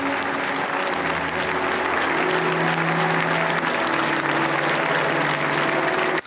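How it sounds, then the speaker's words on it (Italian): The townspeople of Militello in Val di Catania give Pippo Baudo a long, continuous ovation of loud, dense clapping at a constant level while the music of Cavalleria rusticana plays in the background. "L'unico lungo applauso gliel'ha fatto il popolo di Militello in Val di Catania sulle note di cavalleria rusticana."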